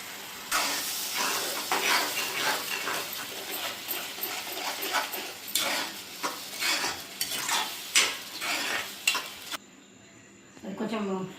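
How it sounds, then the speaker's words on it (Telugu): Tomato paste frying in a pan with onion for a bottle gourd kofta curry, stirred with a utensil: steady close sizzle broken by repeated scraping strokes, ending abruptly with a brief clatter. "అది కొంచెం ఫ్రై అవుతుంటుంది"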